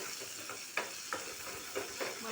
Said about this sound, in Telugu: వేరే ప్యాన్లో ఆయిల్ వేసుకొని ఆవాలు, శనగపప్పులు తాలింపు పెట్టుకోవాలండి